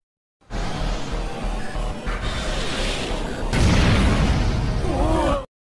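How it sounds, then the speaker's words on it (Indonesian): Anime-style sound effects of fighter jets streaking overhead and blowing up: a sustained roaring rush with booming blasts and crashing debris, growing heavier and louder partway through before cutting off abruptly. "beberapa pesawat tempur melesat dan meledak"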